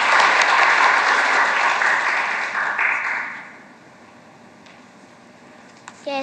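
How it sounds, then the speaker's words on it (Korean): Church audience applauds to encourage a young reciter at a Sunday praise service, a loud dense burst of clapping that fades out after about three seconds, leaving quiet room tone. "큰 박수로 격려해 주시기 바랍니다."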